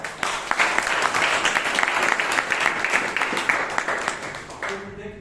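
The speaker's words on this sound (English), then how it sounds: "So let us give another big round of applause." Audience applause fills a Toastmasters meeting hall in Bangalore, steady dense clapping from many hands sustained for several seconds before tapering off at the end.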